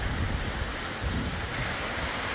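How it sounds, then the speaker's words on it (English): Strong wind roars steadily across the microphone on a balcony overlooking the ocean in Sint Maarten, with surf rumbling beneath the continuous gusty noise throughout. "It's really windy here."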